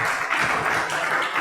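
A church congregation claps together during a worship service, a brief steady burst of applause with no talking.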